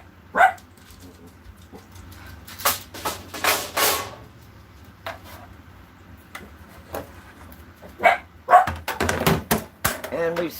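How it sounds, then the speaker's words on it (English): Several short barks from puppies at a trailer park ring out in separate bursts, mid-distance, with quiet gaps between them and some faint background noise. "so the puppies may bark"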